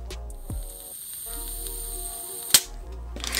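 A Vorsk EU17 vented chrome airsoft pistol, a custom Glock 17 style gas gun, fires one sharp, close crack about two-thirds of the way through, set against a steady low hum and quiet handling.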